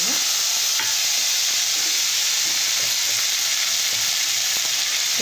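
Tomato pieces fry in oil for urad dal chutney with a loud, dense, continuous hiss and sizzle, close up and steady, under light stirring taps and no voices.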